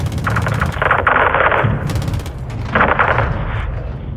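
Bursts of rapid automatic gunfire in Call of Duty Modern Warfare 2, loud and close, two dense volleys separated by a short lull over a low rumbling battle bed.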